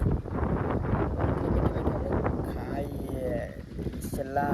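Wind buffets a microphone outdoors at a farm, giving a constant low roaring rumble, with faint voices surfacing toward the end.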